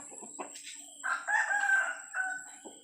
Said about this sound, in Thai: พ่อแจ้ค่ะนั่นคือพ่อแจ้